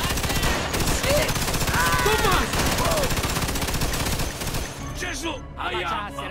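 Rapid machine gun bursts crackle almost nonstop in a shootout in the video game Mafia 2 Definitive Edition, loud and near, with shouted voices over the gunfire before it thins out at the end.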